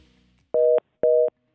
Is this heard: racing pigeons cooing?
no